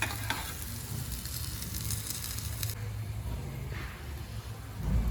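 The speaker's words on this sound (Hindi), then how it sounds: "यहाँ पे मैंने बिल्कुल शैलो ऑयल में फ्राई किया है।" Chicken egg paratha shallow frying in oil in a pan, giving a soft, steady sizzle and crackle that is close but fairly quiet, with a faint scrape near the end.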